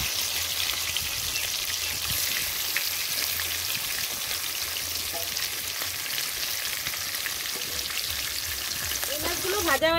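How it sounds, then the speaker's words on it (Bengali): Rita fish pieces fry in plenty of hot oil, a steady close sizzle with small popping crackles that continues throughout, and a voice speaks briefly over it. "আর কটা মাছ আছে, এই কটাও ভেজে নেব।"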